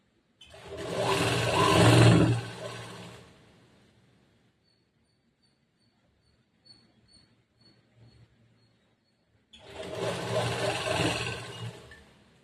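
A sewing machine stitches a strip of canvas onto the fabric of a semi-patiala churidar pant, running in two bursts of whirring several seconds long, separated by a near-silent pause with faint handling sounds.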